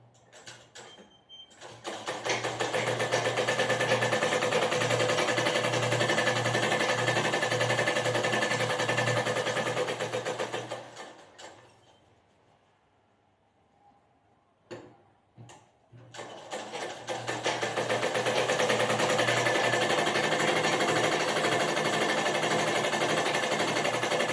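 A sewing machine runs in fast, steady bursts as it stitches a blouse patti along the edge. Two long runs are separated by a quiet pause with a few short clicks.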